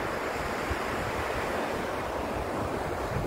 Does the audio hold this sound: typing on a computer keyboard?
no